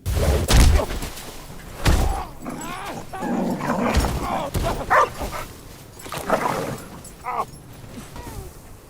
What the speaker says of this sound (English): Krypto the Super Dog.